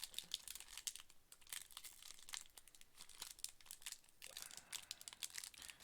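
Crinkly Magic: The Gathering booster pack wrappers being torn and crumpled up close, with sharp bursts of foil crackling and ripping in irregular clusters throughout.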